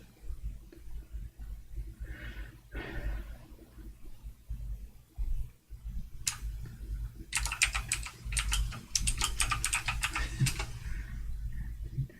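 Keys on a computer keyboard are typed while weather settings are entered in a flight simulator. A few isolated taps are followed by two quick bursts of keystrokes, all faint against a low background hum.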